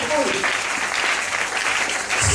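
Church congregation clapping and cheering in praise of the Lord during a sermon, a dense, continuous wash of applause filling the room from start to finish.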